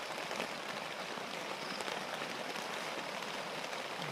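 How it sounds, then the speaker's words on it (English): Steady rain drumming on a tent during car camping at a farm, a dense, even patter heard from inside that stays constant throughout with no talking. "inside the tent because it's raining anyway."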